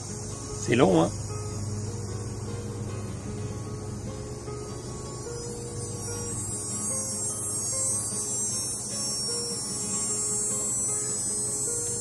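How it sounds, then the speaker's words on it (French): Cicadas drone in a high, continuous buzz in a garden in Canada, steady throughout, with a brief voice speaking near the start. "C'est des cigales en fait,"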